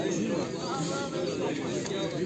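Pigeons or doves coo at an outdoor bird market in Edirnekapı, a low murmuring bed of calls mixed with crowd chatter and nearby voices, steady and moderately loud throughout.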